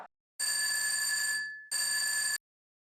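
Electronic telephone ring in a comedy scene, two clean, loud bursts with a short gap between them, alone against silence.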